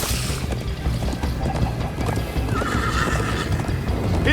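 A horse gallops with steady, rapid hoofbeats in the Minecraft Story Mode video game, loud and close, mixed with whinnies and a busy crash-filled game soundtrack.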